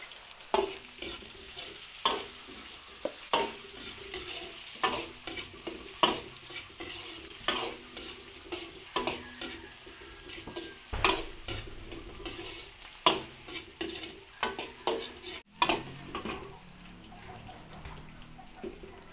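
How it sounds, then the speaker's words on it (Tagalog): Garlic and onion sauté in hot oil for a Filipino dish, a steady soft sizzle broken by repeated clattering stirs of a utensil against the pan, close and fairly quiet. "Gisa tayo ng bawang."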